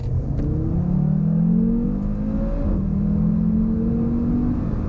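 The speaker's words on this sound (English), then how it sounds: "let's see if this 400 horsepower, 480 Nm of torque 5-cylinder hot saloon can impress us on the 30 to 70 sprint" A 2017 Audi RS3 saloon's 400-horsepower five-cylinder engine pulling hard in a 30-70 mph sprint, a loud, gruff rising drone with quick shifts dropping the pitch between climbs, steady and close.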